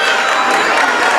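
At a varsity boys' high school basketball game in a gym, the home-side crowd cheers and claps. The roar is loud and dense for a brief stretch, with shouts and applause blended together.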